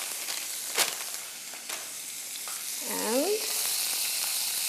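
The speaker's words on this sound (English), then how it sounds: "just fry this, or cook it rather. Cook it well." Minced beef, about 65 grams, sizzles and fries in a pan, a steady close hiss with a couple of clicks from stirring, and a brief spoken word partway through.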